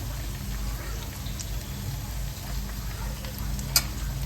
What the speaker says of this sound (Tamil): நல்லா வெண்டைக்காய் சூடு போட்டு பாருங்க.